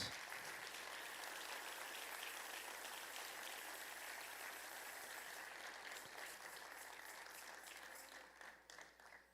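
Church congregation at Templo El Calvario applauding loudly to the King of Kings during an Easter service, steady dense clapping throughout that fades slightly near the end.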